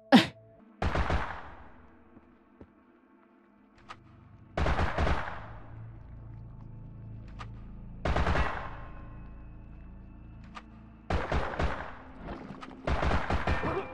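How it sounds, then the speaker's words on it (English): AK-47 bursts in the video game Holstin: four or five separate clusters of sharp, loud automatic shots a few seconds apart, each trailing into a ringing, echoing decay, with quiet low ambience between them and no talking. "Would it be wrong of me to just go like guns blazing with an AK-47?"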